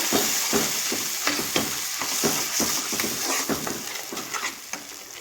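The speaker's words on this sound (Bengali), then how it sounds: "হলুদ গুঁড়ো আর দিব জিরা ধনের গুঁড়ো মশলাটাকে ভালোভাবে আমি কষিয়ে নেব" A spice paste with salt, turmeric, cumin and coriander powder fries in oil, steady sizzling broken by a regular rhythm of stirring scrapes against the pan, close and fairly loud.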